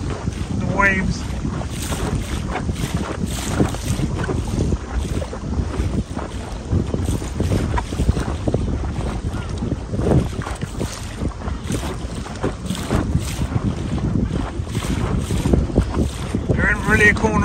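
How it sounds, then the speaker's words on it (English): Waves splash and spray over the side of a small boat on choppy water in strong wind, with continuous heavy wind buffeting the microphone and irregular close sloshing bursts throughout. "Water's flying over the side of the boat. The waves."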